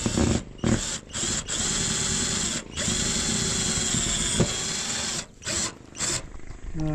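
A power tool drives screws into roofing near a gutter, its loud buzzing whine running in several long bursts broken by short pauses.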